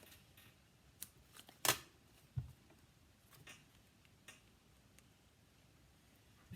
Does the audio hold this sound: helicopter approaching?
no